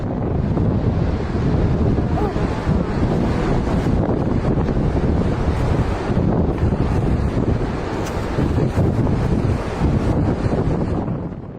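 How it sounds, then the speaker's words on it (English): Big ocean waves at Nazaré, Portugal, roaring as a continuous loud wash of surf heavily buffeted by wind noise on the microphone, steady throughout with no talk. "These shots were filmed in Nazaré, Portugal, home to some of the biggest waves in Europe."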